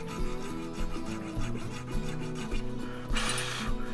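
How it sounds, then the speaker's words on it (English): A hand file rasps steadily back and forth in a guitar nut slot, with short repeated strokes heard up close and alone, the rasp growing brighter near the end. "And so I'm filing down"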